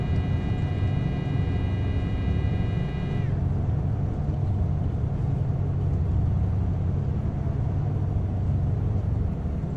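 A Cessna 404 Titan in a flight simulator rolls for takeoff, its engines a steady loud drone with a high whine that cuts out early, then continuous rumbling power.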